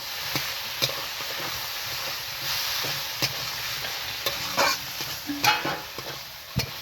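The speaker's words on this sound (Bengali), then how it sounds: "দিয়ে নাড়াচাড়া করবো একটু।" Bengali rui fish curry with potatoes and eggplant stirred in a pan, a continuous sizzle under repeated scraping strokes of a spoon at an irregular rhythm, close and moderately loud, with no speech.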